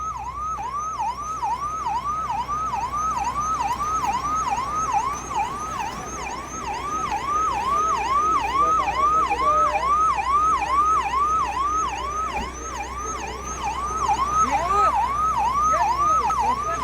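Ambulance sirens wail in a continuous rising and falling cycle while stuck in a heavy traffic jam at Shilphata, loud and steady for the whole stretch over a low rumble of idling road traffic.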